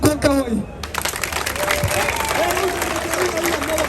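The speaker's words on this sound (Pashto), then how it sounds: "د امنیتي ځواکونو او د ولسمشر په ملاتړ یو غوړ چک چک وکوئ" A crowd at a political protest rally in Paris breaks into applause, a dense burst of clapping that rises after a speaker's closing words and carries on steadily to the end.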